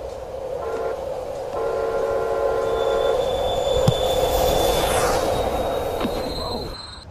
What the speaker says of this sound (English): Look! The train!